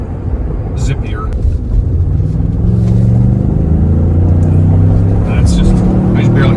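A stock 3.5L EcoBoost vehicle fitted with a throttle sensitivity controller pulls away hard from a stop. A deep engine rumble builds and climbs steadily, loud and close, with voices talking over it.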